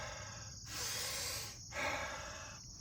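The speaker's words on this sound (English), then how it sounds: "sometimes I'll breathe and just try to get to where my breath isn't hot" Forceful pranayama breathing, two long, hissing exhales through the nose or mouth separated by brief pauses, close and fairly quiet.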